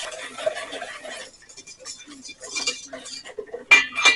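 Salt and nutmeg being mixed into dry ingredients in a bowl for a cinnamon sugar apple cake, with light scraping and clinking of a utensil against the bowl, a quiet pause, then a sharper clatter at the end.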